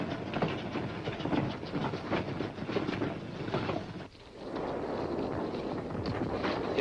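Freight trains loaded with war-weary equipment run over rails in Korea, giving a continuous clattering rumble with dense rhythmic rattling. It dips briefly at one point, then resumes steadily.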